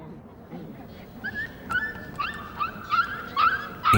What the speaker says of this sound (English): A male baboon forcibly adopts a puppy.